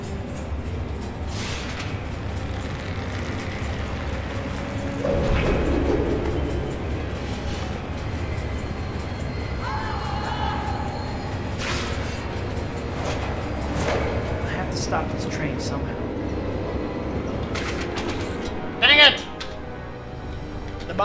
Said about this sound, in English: I have to stop this train somehow.